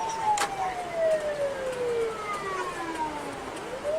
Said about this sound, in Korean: 119 구급차가 가고 있네요.